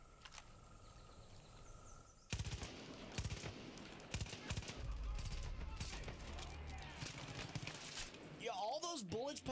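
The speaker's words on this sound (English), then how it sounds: "Bullets pumped into him?" Gunfire in Far Cry 5 on Dutch Island: after a quiet stretch, rapid bursts of shots crack out loud and keep going for several seconds, followed by a brief wavering sound near the end.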